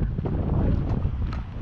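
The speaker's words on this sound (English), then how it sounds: "It's windy. More windy than I wanted to be" Wind buffets an outdoor microphone on a bay, a loud, continuous low rumble that fills the whole moment with no pauses.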